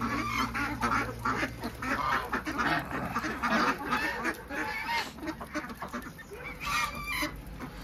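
Geese and ducks, including Indian and Pekin ducks, honk and quack continuously in a noisy flock at a bird farm in Pune, calls overlapping close by.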